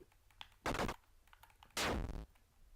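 Gunfire in the video game Fireball comes as two short bursts, each a loud, sharp, buzzing rattle, while the player moves with a D-pad, with light clicking in between.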